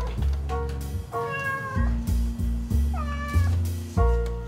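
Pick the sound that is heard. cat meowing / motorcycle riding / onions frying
cat meowing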